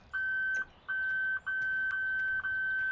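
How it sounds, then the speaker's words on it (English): A hidden gold coin in Farming Simulator 17 gives off a repeating electronic beep, four long steady tones with short gaps, clear and alone over a quiet background. "I just heard some beeping."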